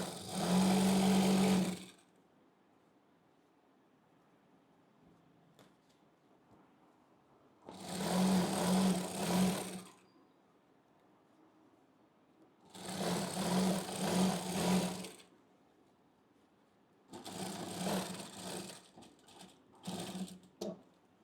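A sewing machine stitches elastic onto palazzo fabric in four separate bursts of fast, whirring stitching, each a couple of seconds long, with quiet pauses in between.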